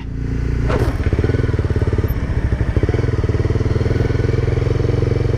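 A Honda CBR300R motorcycle engine runs loud and close during a ride on flooded roads after a storm, a steady rapid throb from start to finish.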